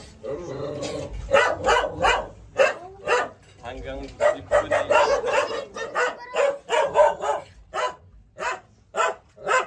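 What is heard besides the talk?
dog barking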